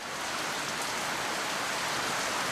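Steady rain falling in the Seychelles, a dense even hiss of drops on surfaces, moderately loud and constant throughout with no voices.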